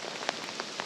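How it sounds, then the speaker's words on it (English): Rain pattering steadily in a forest during a spring hunt in Manitoba's Duck Mountains, a dense close hiss with a few brief louder drop hits and no voices. "the rain just keeps getting worse."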